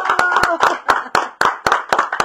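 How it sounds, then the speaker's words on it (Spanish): Applause at a store opening ceremony in Sahuayo, Michoacán, Mexico, heard as a small group clapping in a loose, fairly even rhythm, with close, distinct slaps under an ongoing murmur of voices. "Pues un aplauso nuevamente"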